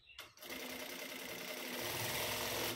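A sewing machine stitches a blouse seam, starting with a short burst and then running steadily and loudly with a fast, even whir for the rest of the stretch.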